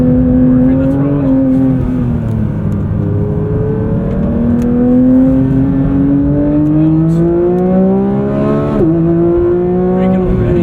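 A 2024 Porsche 911 GT3 engine works hard under throttle on a track at the Porsche Experience Center, a loud, steady in-car drone that climbs and falls with gear changes while a voice talks over it.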